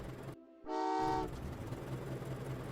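Train horn in the Train Valley 2 railway puzzle game sounds one loud, sustained, harmonic toot lasting about half a second, standing out clearly against a low background hum.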